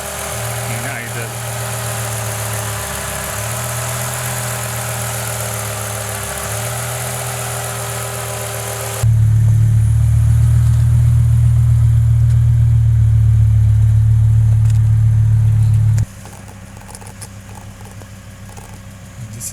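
A BMW M5 E60 with a V10 engine idles roughly with a low, uneven hum, then rises to a louder, deeper drone for several seconds before settling back to the quieter idle.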